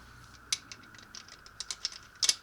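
A torque wrench set to 40 ft-lb ratchets on a CV axle of a 1989 Nissan D21 Hardbody, quick metallic clicks in short irregular bursts, close and fairly crisp.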